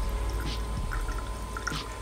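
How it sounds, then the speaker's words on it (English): Water trickles and splashes as it is poured to fill a film development tank for an E-6 colour reversal process, a soft steady flow with a few faint drips. "So I'm going to fill it with water here,"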